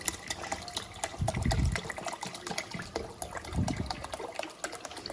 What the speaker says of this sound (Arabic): هضيف له بقى حليب تاني على البارد برده كده